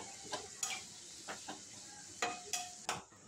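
Spiced pointed gourd being stirred in a pan with chillies, salt and turmeric, a spatula scraping in several distinct strokes over a soft, steady sizzle of frying.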